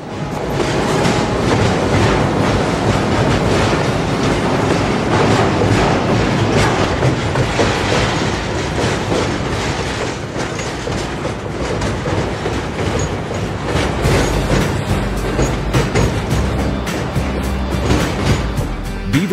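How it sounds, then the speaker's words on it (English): A CSX transfer freight carrying intermodal traffic rolls past near Beaver Street Tower in Jacksonville, a loud sustained rumble with rhythmic clickety-clack of wheels over rail joints and faint squeals. "This is a CSX transfer run headed for FEC's Bowden Yard with intermodal traffic for"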